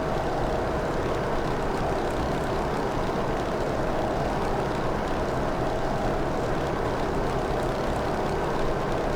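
Grumman F3F biplane in Microsoft Flight Simulator, a steady, loud propeller-engine drone held evenly at cruise with no pauses and no voices.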